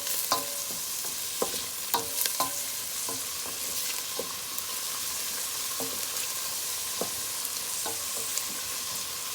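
Pepper, garlic and green onions sizzle in a hot frying pan while a utensil stirs them, giving a steady frying hiss broken by repeated scraping strokes at close range, with no talking.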